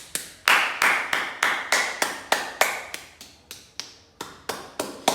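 A steady run of about fourteen hand claps, roughly three per second, their tone shifting between brighter and duller strikes as the clapping style changes, close and with no talking.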